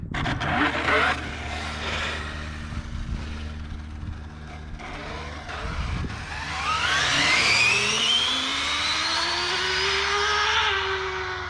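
A 30 horsepower dual-motor RC car on a speed run, heard as a rough whirring drone that rises into a loud, climbing high-pitched electric whine as it accelerates away.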